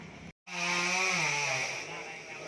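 A chainsaw cutting down a tall eucalyptus tree, more than twenty metres high and about twenty years old, gives a loud, sustained high engine whine that cuts out briefly and then revs back up, with no talking.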